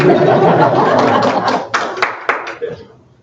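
Applause at a town council meeting that starts dense and gradually thins into scattered claps before fading out.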